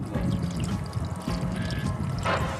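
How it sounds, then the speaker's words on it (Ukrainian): Water pours steadily into an overheating pickup's radiator with a gurgling, splashing rush, fairly close and continuous throughout. "Доводиться постійно доливати воду в радіатор."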